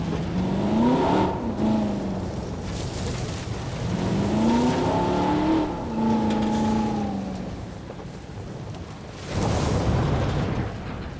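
Jeep engine in Jurassic World Evolution, revving and shifting pitch in rising and falling sweeps as it drives, loud and close, with harsh bursts of noise breaking in between.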